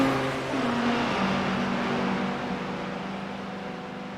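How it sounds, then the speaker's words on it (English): GT race cars with V10 engines lapping Daytona in a racing video game make a steady, loud engine drone with a sustained tone that shifts slightly in pitch and holds throughout. "GT cars around Daytona, there's just a sweet sound to them, isn't there? Especially with these V10s"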